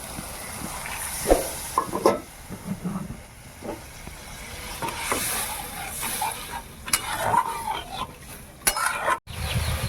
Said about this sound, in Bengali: এবার আমি একটু অল্প একটু জল দিয়ে দেবো